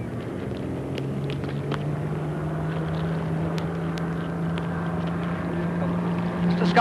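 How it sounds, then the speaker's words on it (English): Miss Britain I, a 1930 wooden-framed speedboat, drones past at speed with a steady low engine hum and wind rush, building louder toward the end. "Scott Payne is just going to give you an idea of what Miss Britain 1 can do in the way of speed"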